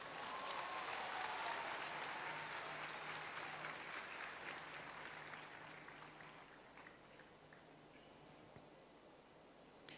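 A church congregation in Angola applauds during a sermon, a dense sustained wash of clapping that swells at first and slowly fades over ten seconds, heard from a distance.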